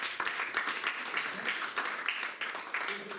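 Audience applause at a hypnotist's stage show in Milton, Delaware: brief, lively clapping from the crowd, fairly close, with speech overlapping it.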